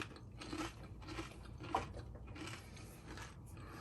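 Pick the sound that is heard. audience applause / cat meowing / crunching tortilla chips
crunching tortilla chips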